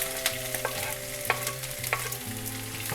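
Cumin seeds and onion sizzle steadily in a hot pan, a constant crackling hiss with occasional sharp pops and scrapes from stirring, and a low tonal hum running underneath.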